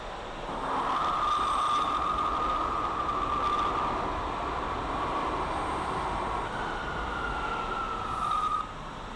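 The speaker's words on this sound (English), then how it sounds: "This is a far Rockaway bound A train." NYC subway R179 A train bound for Far Rockaway running in the OpenBVE train simulator, a steady rumbling roll with a sustained whining tone from the motors, loud and continuous throughout.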